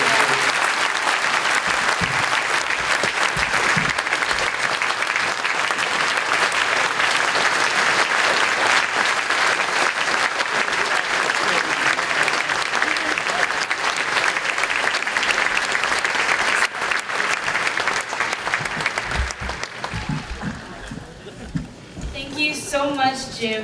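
An audience at a children's advocacy breakfast gives a long, steady round of applause after a speech, the clapping full and even before thinning out, with voices emerging at the close.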